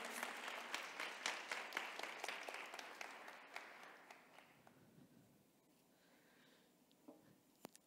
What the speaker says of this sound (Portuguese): Vocês podem aplaudir eles, podem sair por aqui.